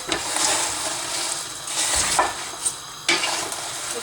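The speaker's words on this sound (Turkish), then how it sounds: "Karıştırıyorum." A spoon stirs sauce in a pot, giving a few scraping, sloshing strokes over a steady sizzle, close and moderately loud with no talking.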